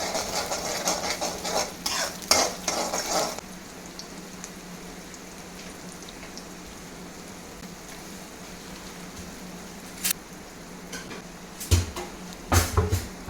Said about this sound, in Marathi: आता ह्याच्यात हे स्क्रॅम्बल्ड एग टाकते मी, 2 एग्ज. आणि त्याचं छान छान असं परतून घ्यायचं.